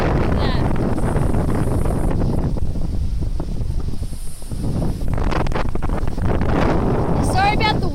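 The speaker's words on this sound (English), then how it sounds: "Sorry about the wind." Strong wind buffeting the microphone at a waterfall lookout, a loud continuous rumbling roar with gusts rising and falling throughout, while a person speaks faintly underneath.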